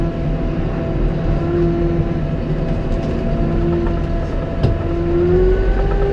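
Under throttle, a Massey Ferguson 5711 Dyna-4 tractor engine drones loudly and steadily while raking thick rye, its tone rising slightly toward the end as it pulls harder, with no speech.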